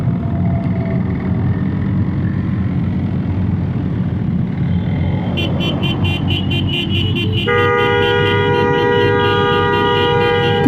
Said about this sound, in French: Putain, il a un klaxon de bagnole.